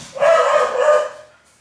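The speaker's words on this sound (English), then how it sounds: "And there's my dog." A single dog gives one short, loud bark that trails into a brief whine, close by, in an otherwise quiet room with no talking.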